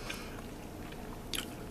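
A mortadella sandwich is bitten and chewed close up, giving a quiet, steady, moist chewing sound with a sharper crunchy bite near the end and no talking.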